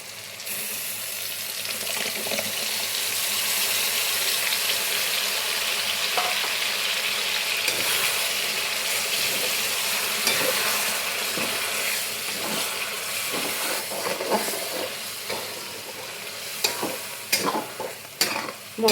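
Mutton with ginger and spices stir-fries in hot oil, a steady loud sizzle broken by scraping stirs that grow more frequent toward the end, with no voices.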